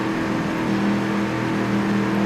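Race car engine on the final lap of the Cleveland Airport Grand Prix, a steady droning hum heard from inside the car, with faint rising tones under a constant noisy rumble.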